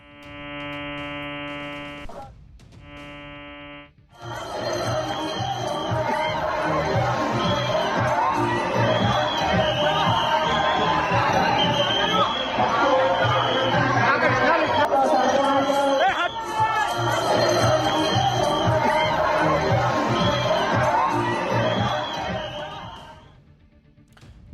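A huge festival crowd at the Rath Yatra chariot procession, dense roaring chatter, shouts and cheering filling the whole stretch, loud and continuous, with a short tonal electronic sound at the start.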